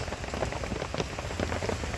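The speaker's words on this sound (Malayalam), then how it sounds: "ഭയങ്കര മഴയാണ്" Heavy rain patters densely on a surface nearby, a steady wash of drops with no voices.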